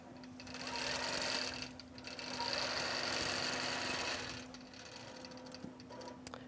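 Embroidery machine stitching out a tic-tac-toe game board, a steady fast mechanical whirring and needle chatter running loud and close, dipping briefly midway, then continuing more quietly.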